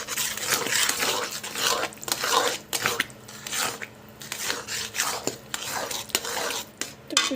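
Food being stirred and mixed in a pot for a home-cooked New Year thali, continuous close scraping and rubbing of a spoon against metal with occasional soft clinks, fairly loud and steady without talk.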